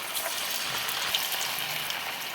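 Small poha bondas fry in hot oil in a kadai, giving a steady, close, even sizzle throughout with faint crackles and no talking.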